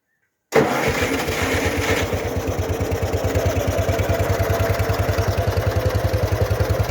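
A restored KhTZ 012 mini tractor engine cranks and catches, then settles into a loud, steady rhythmic putter close by, running alone without talk.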